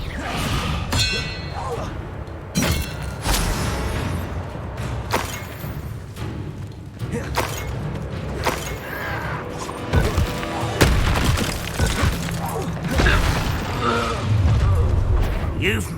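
Magical spell impacts from Hogwarts Legacy combat crash in repeated heavy booms and thuds amid dense battle noise, with voices shouting spells over them.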